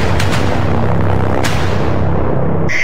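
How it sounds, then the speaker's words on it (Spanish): An explosive goes off at a van, loud and close. The booming blast is followed by a sustained rumbling roar, with sharp cracks at the start and another bang near the end. "Segundos después se ve la explosión, seguida del segundo explosivo."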